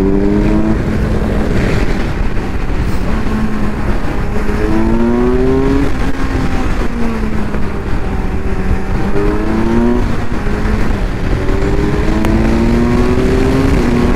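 Kawasaki Ninja 1000SX motorcycle ridden hard, its engine revving and changing pitch continuously through repeated rises and falls, loud and close with steady wind rush and no talking.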